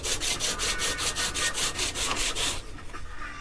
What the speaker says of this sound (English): Gotta get that little nub sanded off so this will fit flat on here.